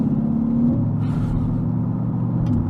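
A Corvette C8 engine with a Borla Attak aftermarket exhaust idles with a loud, deep, steady burble and rumble close by, alone and without talk.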